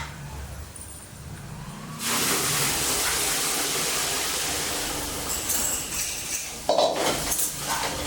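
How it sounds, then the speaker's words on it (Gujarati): Milk pours into a pot with a sudden, steady rushing splash that begins after a quiet opening and runs on, followed by a few light clinks and knocks near the end. "હવે આની અંદર આપણે નાખી દઈશું દૂધ."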